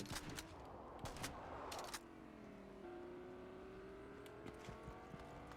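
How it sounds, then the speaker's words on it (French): A car drives in the Fortnite video game, its engine humming and shifting in pitch at a moderate distance. Short bursts of gunfire crack around it. "On entend le frérot dans une voiture, là."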